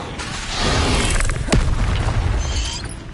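Confringo blasting spell cast in the Hogwarts Legacy video game, a sudden booming explosion swelling after half a second with a sharp crack in the middle and lingering crackly rumble.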